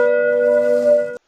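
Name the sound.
notification bell sound effect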